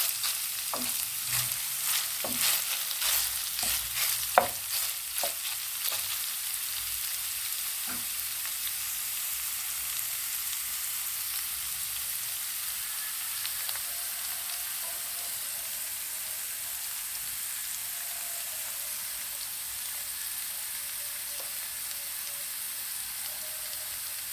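Peppers and crumbled cottage cheese frying in plenty of oil, a soft steady sizzle with a few sharp crackles and stirring clicks early on, then settling into a faint even hiss.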